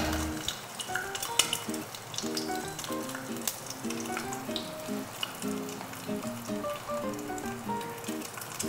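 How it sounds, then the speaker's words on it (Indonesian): An egg fries in a covered pan, a gentle continuous sizzle with soft crackles and faint clinks, fairly quiet and close, with no talk. "Tujuan kita menutup telur ini adalah untuk memastikan bagian atasnya juga masak ya."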